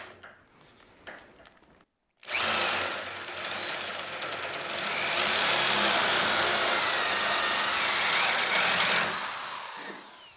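A power drill whines steadily into the wooden edge of a door, boring the edge hole, after a short pause, loud and close, holding a high strained pitch for several seconds before winding down.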